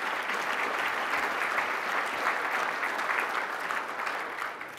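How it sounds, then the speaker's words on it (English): An audience at an outdoor recreation and education conference keynote claps for new member organizations, a broad, even wash of applause sustained throughout and easing slightly at the close. "round of applause for all the new organization members as well"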